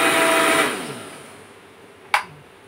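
A kitchen mixer grinder running with mustard seeds whirs loudly for about half a second, then winds down into a fading hum, followed by a single sharp click.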